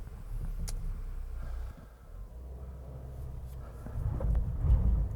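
A 2021 Mercedes-Benz GLA 250 on all-season tires revs off-road as it struggles for traction, a low droning engine that dips briefly and then rises louder near the end, with no talk.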